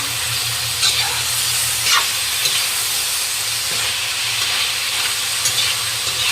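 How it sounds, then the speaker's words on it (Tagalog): Pork frying in hot oil: a loud, steady sizzle and hiss with a few brief pops, close up, no voices. "Pa-fry muna natin yung karning."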